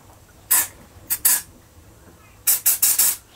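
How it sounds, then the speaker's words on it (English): Easy-start spray hisses into the engine of a Homelite V35 lawnmower in about seven short, sharp bursts grouped in three clusters, close to the listener over quiet background. "spray some of that in there"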